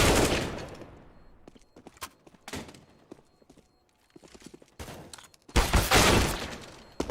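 Pistol gunfire crackling through a Counter-Strike match on the Train map, with bursts of shots in clustered volleys separated by short quieter gaps, the loudest dense flurry near the end.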